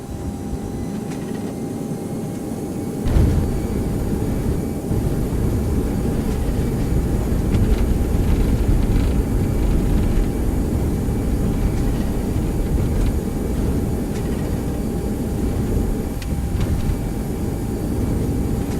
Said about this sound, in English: And the aircraft is coming to a stop.